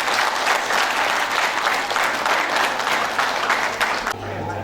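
Guests at a wedding in Kathmandu clap together in a dense, sustained round of welcoming applause that fades near the end, leaving a low hum.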